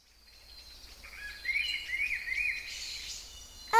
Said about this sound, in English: Oh, it's a bird.